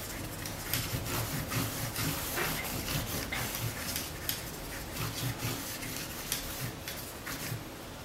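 Cloth wiping a silver calculator faceplate dry after an isopropyl alcohol cleaning, a close, soft and steady rubbing and scuffing with repeated brisk strokes throughout.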